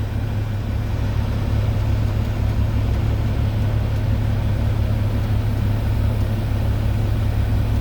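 Truck cab in low gear pulling away as the clutch is slowly raised, a steady low engine rumble running loud and unbroken throughout with no talk.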